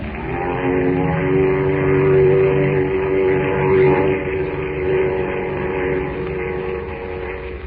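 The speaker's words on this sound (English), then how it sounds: "now that we're safe and comfortable in the plane, Miss Chase, you must be happy" Propeller plane in flight for a radio drama, a steady loud droning engine hum with layered harmonic tones that swells and eases slightly throughout, no voices.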